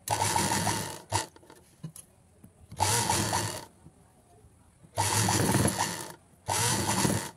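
A sewing machine stitches a blouse lining in two-second bursts of steady mechanical whirring, separated by short quiet pauses while the fabric is adjusted, with no talking.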